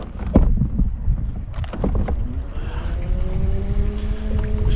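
A slow outboard motor on a fishing boat drones steadily on windy water, its low engine hum rising into a sustained tone while gusts buffet the microphone, with a few knocks early on and no speech.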